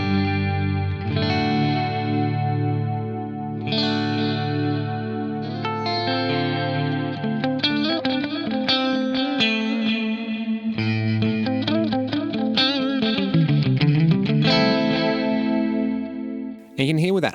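Guitar played through a Fractal AX8 delay set with a steep 36 dB high-cut slope: sustained chords give way to quicker single-note runs, all smeared with warm, darkened echoes and steady loudness throughout.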